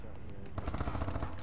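A short, quiet burst of rapid video-game gunfire, the shots crackling in quick succession after a brief lull.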